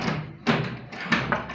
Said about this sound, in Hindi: ये दरवाजा लग गया, इसमें ताला लग गया